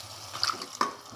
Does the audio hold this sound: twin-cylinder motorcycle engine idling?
no